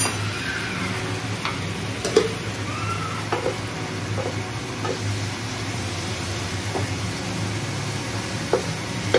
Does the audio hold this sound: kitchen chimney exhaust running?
yes